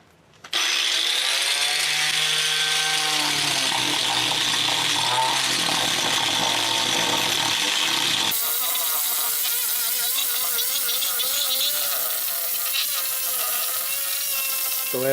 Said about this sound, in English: try to grind off as much of the walnut as possible